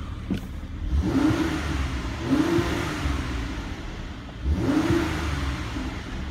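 A Mercedes-AMG GLC 43 SUV engine runs with a low, throaty rumble, rising in a few brief revs over a steady background hum.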